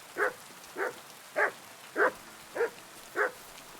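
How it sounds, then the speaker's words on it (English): Six evenly spaced barks from a dog in the video game Kingdom Come: Deliverance II, each a short sharp bark at a regular rhythm of roughly one every 0.6 seconds, clear against a quiet background. "Aye, aye, you silly doggy."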